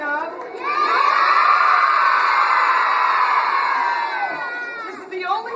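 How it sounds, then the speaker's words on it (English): Crowd of school children screaming and cheering together in a school, a sustained loud roar of high voices swelling then fading after several seconds, with shrill whoops at the end. "This is the only time you're going to be able to scream as loud as you want in the school"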